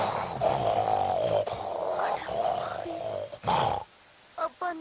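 A man growls and grunts in a rough, dog-like voice, imitating a dog's snarl for several seconds, followed by brief short barking sounds.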